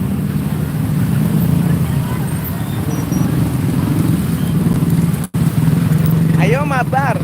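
Dense city traffic jam in Jakarta with motorcycles and cars, a steady loud rumble of idling and creeping engines close by, with a brief horn-like warble near the end.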